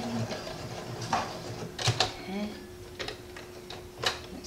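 A sewing machine stitches a tank top in short bursts with mechanical whirring and ticking, close and moderately quiet, while a person talks over it at times.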